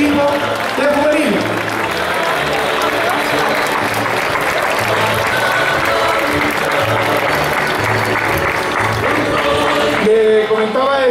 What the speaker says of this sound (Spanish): el aplauso para el equipo